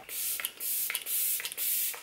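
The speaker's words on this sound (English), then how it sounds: "spritz my skin with the Glam Glow Glow Setter Makeup Setting Spray" Four short spritzes of a Glam Glow Glow Setter makeup setting spray being misted onto the face, evenly spaced soft hissing bursts, close and fairly quiet with no talk.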